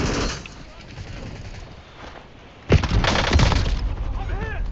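Warzone gunfire erupts as a loud burst of shots partway through, preceded by quieter in-game noise, with people talking over the action.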